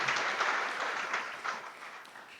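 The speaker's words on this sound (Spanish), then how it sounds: "Le damos un fuerte aplauso al Señor." A church congregation gives a steady round of applause that stays fairly distant and soft for about two seconds, thinning slightly toward the end.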